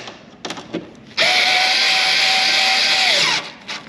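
Power tool snugging screws on a Cadillac CTS-V conversion kit: after a few faint clicks, a loud steady whir runs for about two seconds, then winds down and stops.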